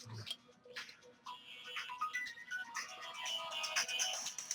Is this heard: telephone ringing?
yes